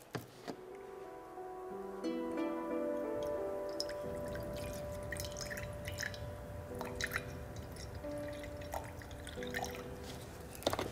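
Distilled water is poured into a container sitting on a kitchen scale, giving a thin, continuous trickle and dribble with light drips for around ten seconds. A faint tonal hum sits underneath, and no one speaks.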